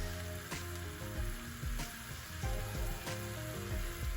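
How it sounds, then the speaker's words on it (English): Coriander leaves (cilantro) cooking in hot oil in a pan for Gujarati handvo, giving a steady close sizzle and frying hiss with a few soft stirring knocks and no talk. "So that's why I'm cooking it in oil for a few more minutes."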